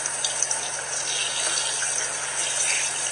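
A shower runs steadily while a puppy is washed, giving a continuous splashing hiss of water at close range with a few small knocks near the start.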